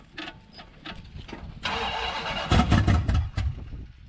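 A big-block Dodge D100 pickup with a tunnel ram cranks over and fires on a cold start, a short churning crank before the engine catches with a loud, rough burst, close by.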